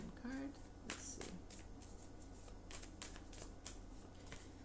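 Tarot cards being shuffled and drawn, heard as soft, quiet riffling and slapping card sounds with a few crisp snaps, close but low in level over a faint background hum.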